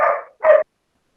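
A dog gives two short, sharp barks in quick succession, close and loud, followed by silence.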